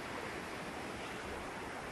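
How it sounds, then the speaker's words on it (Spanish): Water rushing down the cold mountain waterfall at Pampa Hermosa, a dense, steady roar of falling water with no other sounds. "Por acá baja el agua."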